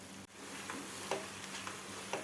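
Apple jam mixture is stirred and sautéed in a pan, giving a soft, continuous quiet sizzle with a few light scraping strokes and no voices.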